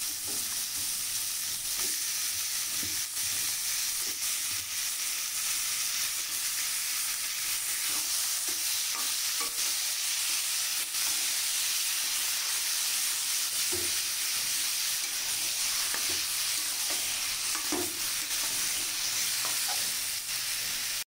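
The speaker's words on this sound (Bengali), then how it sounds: "এটা দিয়ে এবার বেশ কিছুক্ষণ ভালো করে কষিয়ে নেব" Chicken pieces and spices sauté in a pan, giving a continuous dense sizzle with occasional stirring clicks and scrapes, fairly close and steady with no talking.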